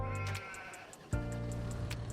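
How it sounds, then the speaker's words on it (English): Sheep bleating on a farm in Farming Simulator 25, a couple of drawn-out nasal bleats close by, the second starting sharply midway and holding steady over a faint repeating clicking background. "We need to go feed our sheep, because our sheep are starving."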